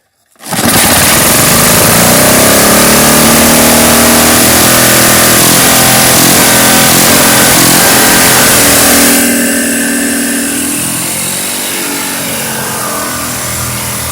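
A 1978 Tecumseh 5HP LAV50 small engine starts abruptly and runs loud and steady at high speed, then its pitch and volume drop as it slows toward a lower idle-like run.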